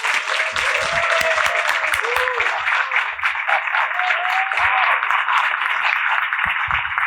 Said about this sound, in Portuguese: Parabéns, Cachito, aplausos.